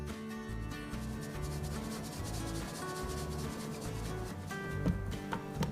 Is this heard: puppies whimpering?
no